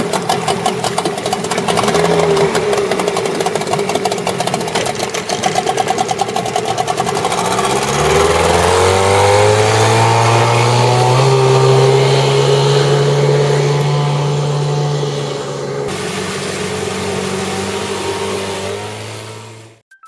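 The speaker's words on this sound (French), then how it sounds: "Ils ont également ajouté un moteur permettant au bateau de bricolage d'avancer l'eau comme un vrai bateau à moteur" A motor drives a homemade DIY boat through the water at about 16 to 22 km/h. It buzzes steadily, then its pitch rises and holds as it revs up, loud and close, before cutting off at the end.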